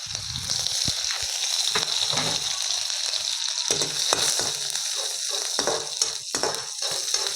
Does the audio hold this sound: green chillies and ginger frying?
yes